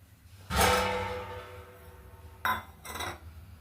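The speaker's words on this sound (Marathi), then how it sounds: "आता आपण तो ताट बाजूला ठेवला आणि त्याच्यावरचं झाकण काढून घेऊ" Metal kitchenware clinks and clatters as a plate is set aside and a lid is lifted off a hot kadhai (wok-like pan) used for baking wheat-flour biscuits: one loud clatter, then two shorter knocks close by.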